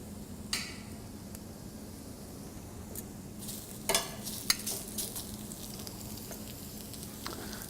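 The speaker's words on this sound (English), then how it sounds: "I'll grill them for about 3 minutes on one side, turn them for a mark, and flip them to the back side." Shrimp skewers sear on a warm grill with a quiet, steady sizzle, broken by a few soft clicks and taps of tongs or skewers, mostly around the middle.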